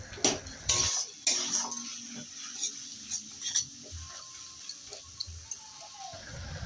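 A metal spoon scrapes and clinks against a pan while a spice paste of chilli powder mixed with water fries, producing scattered sharp taps and scrapes over a faint background hiss, with no talking.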